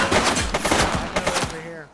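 Gunfire in the cop video game Precinct, a rapid string of sharp close shots over about a second and a half that ends in a short ringing tail.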